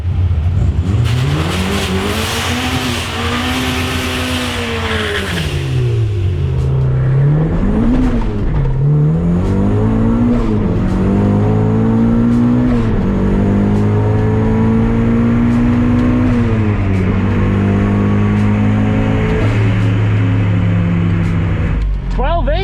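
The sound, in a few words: 388 whp Mazda Miata accelerating during a drag racing pass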